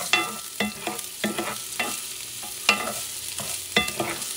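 Chopped garlic stirred in a hot pan, with a light sizzle under the repeated scrape and tap of the utensil, roughly one stroke every half second.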